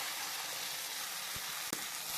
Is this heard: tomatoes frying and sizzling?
yes